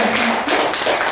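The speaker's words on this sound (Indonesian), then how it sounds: "Tepuk tangan lagi dong buat Bapak Panji." An audience at a workplace women's self-defense event claps for Bapak Panji, a loud, continuous wash of many hands clapping together at close range for about a second, with no talk over it.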